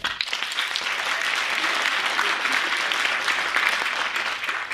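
A film Q&A audience breaks into steady, full applause that lasts several seconds, with no one speaking over it.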